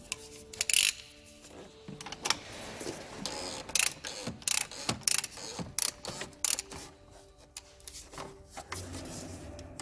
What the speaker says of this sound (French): on va reprendre notre douille et le cliquer. Et on va venir serrer ça gentiment.